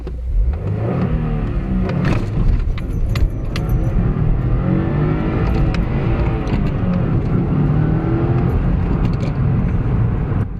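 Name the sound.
car engine revving and gear shifting in Motor Madness video game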